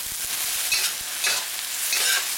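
Broccoli being stirred into a sizzling stir-fry with red peppers in a pan, a steady frying hiss broken by a few scraping stirs, close and with no talking.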